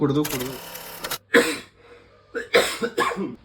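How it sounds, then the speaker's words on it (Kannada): A person coughs in several sharp, harsh bursts at close range, with a voice or other harmonic sound just before the first cough. "ಯಾಕ್ಲ ಹಿಂಗೆ ಕೆಮ್ತಾ ಇದ್ಯಾ?"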